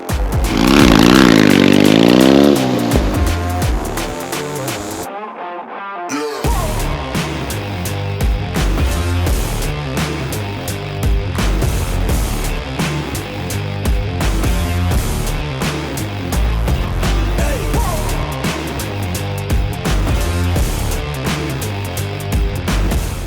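Triumph motorcycle ridden off-road along a grassy green lane in England, its engine revving loudly at first, cutting out briefly, then droning steadily with rising and falling pitch as it travels on.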